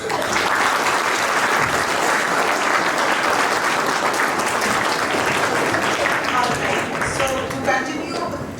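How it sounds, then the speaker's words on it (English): A crowd at a school class assembly claps steadily in sustained, loud applause lasting several seconds, with a few voices faintly mixed in. "A round of applause."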